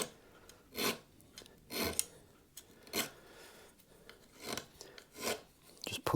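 A metal file rasps in slow, separate strokes against the fret ends on a thinline bass fretboard, beveling the edges, with quiet pauses between passes and no talking.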